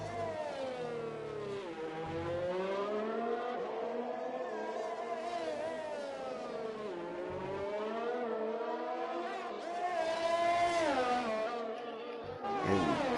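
A Formula 1 car engine on a hot lap in a racing video game, a high-pitched wail rising and falling through gear changes and corners, steady and fairly close with no talk over it.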